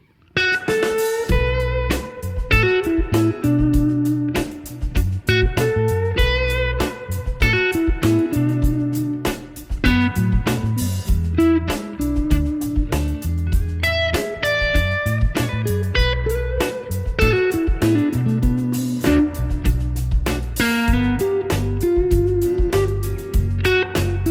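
An electric guitar plays a melodic blues solo over chord changes, the notes landing on chord tones. Phrases are clear, loud and continuous, with a bass line and drums beneath and no talking.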